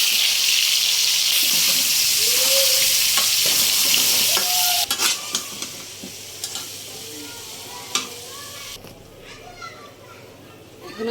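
Hog plums go into garlic frying in oil for a sour-sweet pickle. A loud, hissing sizzle drops away into stirring and scraping, while children's voices carry faintly in the background.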